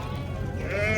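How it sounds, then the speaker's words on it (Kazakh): Sheep and lambs bleat at a livestock market, one close, loud wavering bleat filling the short moment with no talk over it. "Қозы қойлар."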